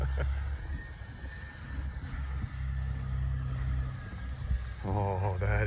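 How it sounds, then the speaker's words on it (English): Big old Kenworth truck, the restored Iron Duke, rumbling in with a steady low diesel drone that holds throughout, with a rising harmonic whine near the end as it draws closer. "That almost sounds like a big old Kenworth."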